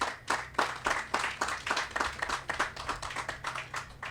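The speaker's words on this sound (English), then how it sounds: "I want you to give everyone involved a round of applause" Audience applause at the launch of the Millennium Heights Medical Complex secondary hospital: a steady run of distinct, fairly sparse hand claps over a low hum, moderately loud and without talk.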